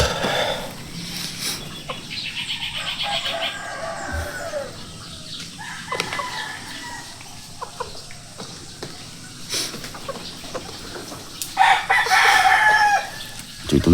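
Hybrid chickens, a rooster and hens, with a rooster crowing loudly a couple of times and hens clucking around it, plus brief wing flaps and scattered rustling in a rural yard.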